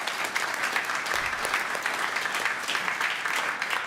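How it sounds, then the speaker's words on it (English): Brief, steady applause from an audience at a CHL group stage draw, thanking the draw assistants with evenly sustained clapping at moderate loudness and no speech on top. "Round of applause, please."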